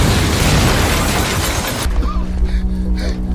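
A bomb goes off in a film scene: a loud, roaring blast with shattering debris for nearly two seconds, then cutting to a lower rumbling aftermath with faint tonal sounds.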